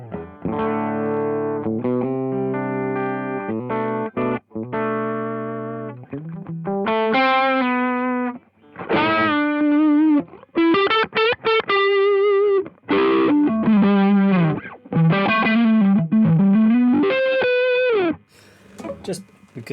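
Electric guitar through a ToneConcepts GOO distortion pedal in classic mode, playing loud, thick, saturated riffs and sustained chords in bursts separated by short pauses, with no talking over the playing.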